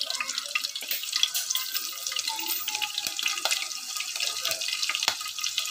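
Green chillies hit hot oil in a pan where cumin has already turned golden, giving a steady, close broadband sizzle that holds for several seconds with small pops and crackles.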